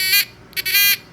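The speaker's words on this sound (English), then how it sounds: "This is one of the buzzers that we can use to set off, and it makes a small chirping noise." A small electronic buzzer component chirps in three short, shrill bursts, close and fairly loud, with brief gaps between them.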